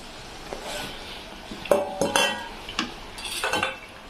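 Hand-crushed potatoes tipped into a pan for Kumbakonam kadappa and stirred in, a spoon scraping and clinking against the metal in several sharp knocks over a faint sizzle, with no talking.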